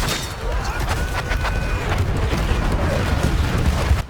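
Artillery barrage and gunfire in the Battlefield 1 video game, a steady dense rumble of booms and crackling shots with no pause, loud and continuous across the whole stretch.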